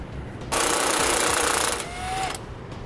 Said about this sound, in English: Now we'll remove that bolt.